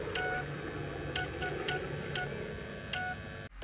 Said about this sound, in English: video capture of the telegraph machines beeping